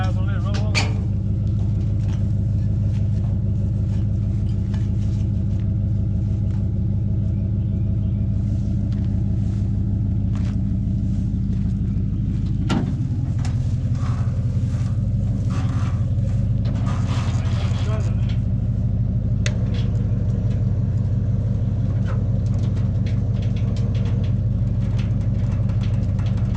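A 1957 Chevy Bel Air rescued from a classic car junkyard is rolled onto a trailer. A low, steady engine rumble runs throughout while people talk, with a sharp knock partway through.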